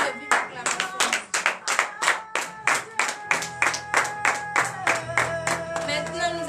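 A congregation at a morning prayer service in Benin claps together in a steady rhythmic beat, about two claps per second, loud and close. Shouted acclamations and a sustained tone run beneath the clapping.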